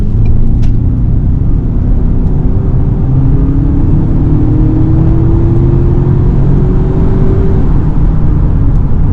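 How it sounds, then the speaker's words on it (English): A 2023 Ford Bronco Sport Badlands with a 2-liter turbo four-cylinder under hard acceleration, heard from inside as a loud, steady engine drone and road rumble whose pitch climbs smoothly through the gears. "we got to start off with a hard acceleration"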